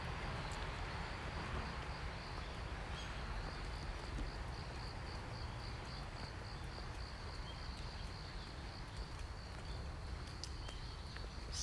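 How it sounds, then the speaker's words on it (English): Crickets chirp steadily in a rural Japanese outdoor setting on a cloudy day, a continuous high pulsing trill that runs throughout over a low, constant wash of ambient wind noise. "Crickets"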